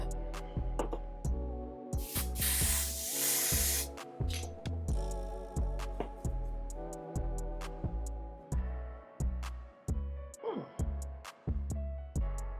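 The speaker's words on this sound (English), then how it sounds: "I'm just gonna spray it." Professional lace wig glue spray lets out a single loud hiss of about two seconds amid close handling clicks and taps.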